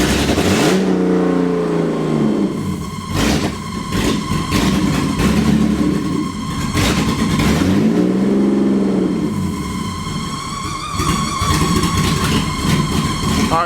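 A junkyard engine in a BMW E36 barn-find car starts and runs, its loud, steady motor note filling the clip with a rough, uneven idle that surges and dips, with no talk over it.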